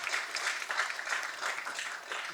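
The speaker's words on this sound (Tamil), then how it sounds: "ஆக்சுவலி அதுக்காக ஒரு பெரிய கரகோஷத்தை நான் கேட்டேன்" An audience at a Tamil film trailer event bursts into applause, a fairly loud, dense patter of clapping with slight surges, heard alone without speech.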